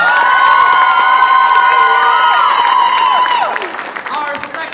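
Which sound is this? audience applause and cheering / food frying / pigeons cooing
audience applause and cheering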